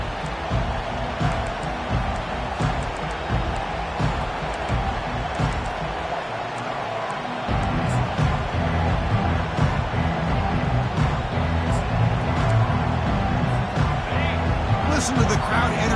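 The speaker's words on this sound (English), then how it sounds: "Listen to the crowd energy here in the early going." A college football stadium crowd in the College Football 25 video game, with Michigan playing, keeps up a constant roar that swells louder about halfway through.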